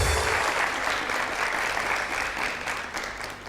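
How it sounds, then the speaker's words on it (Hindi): Dense, steady applause from a studio audience marking Working Women's Day on a talk show, loud and continuous throughout with no voices over it. "तालियां"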